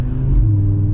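A 2024 Audi RS3 engine on a test drive while still being run in, a loud steady low rumble of an engine under moderate load with no talk.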